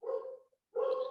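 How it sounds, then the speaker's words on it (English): A dog gives two loud, short barks separated by a brief pause, heard indoors in the background with no talk over them. "Sorry if you guys can hear the dog in the background."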